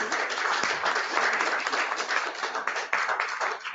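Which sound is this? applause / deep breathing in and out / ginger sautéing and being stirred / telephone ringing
applause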